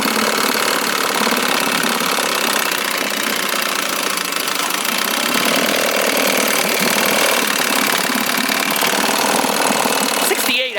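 A 1969 Johnson 6 horsepower outboard motor runs steadily and loudly up close, a continuous rattling, knocking two-stroke drone with no pauses.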